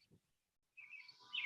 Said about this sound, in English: there's a random bird sound in the background